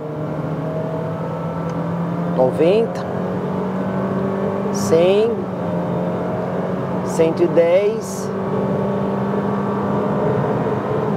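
A 2023 Honda HR-V EXL with a CVT pulls hard from 80 to 120 km/h up a hill with the air conditioning on. Its engine drones steadily and loudly from inside the cabin while a voice calls out speeds.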